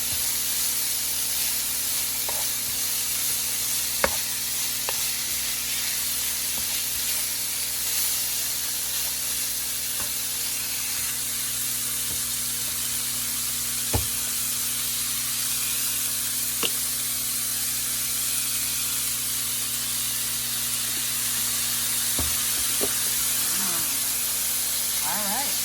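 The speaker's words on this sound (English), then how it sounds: "Just gonna add a little bit of more soy sauce to this." Beef lumpia filling for Philippine-style egg rolls sizzles in a pan as soy sauce is added, a constant steady hiss with a few faint clinks, under occasional speech.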